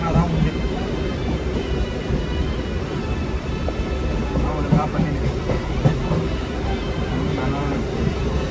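A train running toward Pallavaram rumbles with a steady, loud rattling roar and faint clacks throughout, close and continuous.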